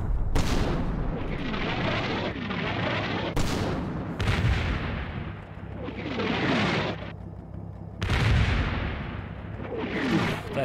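Big artillery guns in the Combat Mission wargame set at Festung Posen, Soviet side, firing repeatedly: loud, deep booms every second or two, each rolling into a long rumbling roar, near and continuous without speech.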